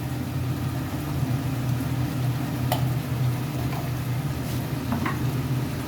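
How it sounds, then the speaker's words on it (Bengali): Spices frying in a pan while being stirred for a bhetki fish dish, a steady low sizzle with occasional light clinks of a utensil against the pan, no voices. "আবারও আমি মশলাটা ভালো করে কষাবো, একটু নুন দিয়ে দেবো স্বাদ মতন।"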